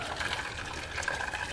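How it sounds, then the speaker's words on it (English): Water poured carefully over washed blackcurrants to cover them while making freezer jam, a steady close trickling and splashing stream that runs without a break and with no voices. "We're gonna carefully pour the water over just to cover them"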